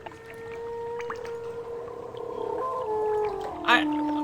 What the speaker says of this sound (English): Cage has elephant sound.